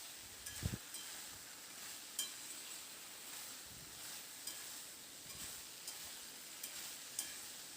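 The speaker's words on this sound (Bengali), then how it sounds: "এবার আরও মিনিট দুয়েক মতো নাড়াচাড়া করে পেঁপে আলু সোয়াবিন মশলার সঙ্গে খুব ভালো করে এটাকে একদম কষিয়ে নিতে হবে" Papaya, potato and soybean chunks are stirred with spices in a pan, producing a faint, steady sizzle with soft scraping strokes of a spatula recurring every second or so.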